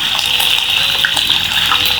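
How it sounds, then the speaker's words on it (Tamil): Mekong-style sizzle of flowers from a medicinal plant frying in hot coconut oil, a steady loud hiss and crackle that fills the whole stretch without any talk. "தேங்காய் எண்ணெய் நல்லா காஞ்சதும் நம்ம இதோட இந்த பூக்களை சேர்த்து பொரிச்சிடலாம்."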